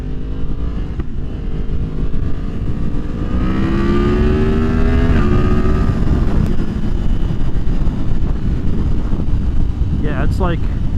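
A 2023 Yamaha MT-10 with its AIS deleted revs hard through second gear, the engine note climbing in pitch as it accelerates, with heavy wind rush over the microphone and someone talking over the ride.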